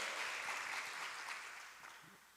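Applause from a church congregation during a Portuguese-language sermon, a soft, distant wash of many clapping hands that fades gradually toward the end.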